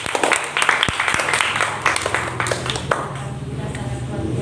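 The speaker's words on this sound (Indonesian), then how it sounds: "Tepuk tangan." An elementary school audience applauds, dense clapping spread across the whole stretch, mixed with voices and chatter throughout.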